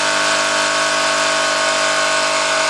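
A Wilesco D 222 toy steam engine drives a Jensen generator, giving a steady, loud mechanical whir with a continuous hum and rapid ticking that holds unchanged throughout, with no speech.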